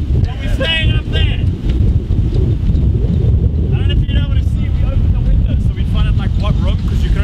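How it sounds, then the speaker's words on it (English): Steady wind from a storm buffeting the microphone near a hotel, a dense low rumble running throughout, with voices talking over it. "A little bit windy, but we're staying up there."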